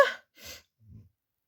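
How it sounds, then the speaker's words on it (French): A person sneezes indoors, a sharp close burst followed by a softer second burst and a low breathy exhale, then silence. "après quelques éternuements intempestifs"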